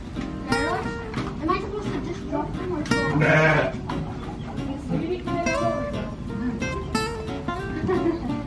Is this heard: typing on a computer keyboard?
no